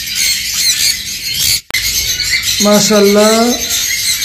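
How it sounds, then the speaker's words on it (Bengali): Sun conure parrots squawk at a bird market in Mirpur 1, Dhaka: a loud, harsh, drawn-out call rises over a busy crowd hubbub, with someone speaking briefly nearby. "এখানে তিন জোড়া সানকুনোর পাখি আছে"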